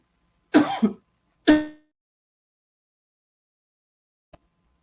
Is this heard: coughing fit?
yes